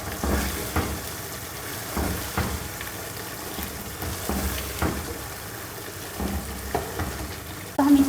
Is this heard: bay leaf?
yes